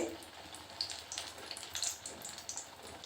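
Semolina and mango poa pitha deep frying in oil, a soft steady sizzle with small bubbling pops and crackles, close and fairly quiet throughout.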